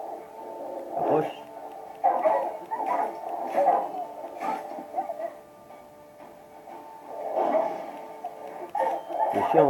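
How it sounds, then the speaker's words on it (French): Rabid dogs in The Witcher 3 game combat, growling and barking in scattered bursts amid fight sounds, moderately loud, with someone talking over them. "Les chiens enragés, ils sont plus coriaces que les loups."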